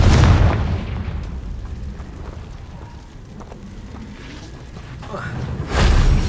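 A Confringo fire-blast spell bursts in Hogwarts Legacy, a loud booming explosion at the start and another heavy blast near the end, with lower rumbling between and a voice speaking.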